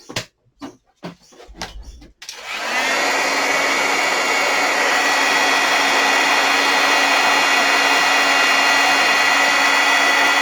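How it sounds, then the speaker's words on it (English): Heat tool melting embossing powder on a card: a few faint knocks and handling sounds, then the blower switches on into a loud, steady, close whirring hum with a high whine that holds to the end. "Bring my heat tool in."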